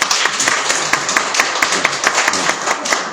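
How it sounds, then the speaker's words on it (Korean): Church congregation applauding to welcome visitors at a Sunday service, steady dense clapping from many hands throughout, close and fairly loud. "우리 환영의 박수 한번 봐"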